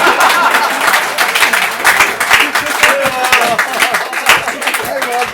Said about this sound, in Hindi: देखिए आपने तालियां बजा दी,